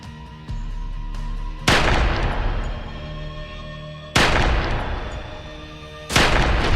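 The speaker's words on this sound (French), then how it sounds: "Une arme est apparue et 3 coups de feu ont retenti." Three sharp gunshots ring out in sequence a couple of seconds apart, each a loud booming crack with a reverberant decay over a low underlying drone.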